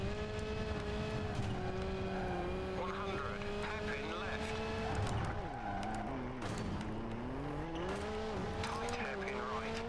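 A rally car engine drones steadily on asphalt in V-Rally 3, revs rising and dipping through gear changes with some tire noise, while a voice talks over it.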